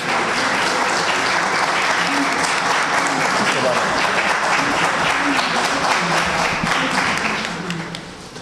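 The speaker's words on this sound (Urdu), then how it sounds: "بہت ساری تالیاں" An audience at a political educational session welcomes a speaker with sustained, loud applause that holds steady for several seconds before tapering off at the end.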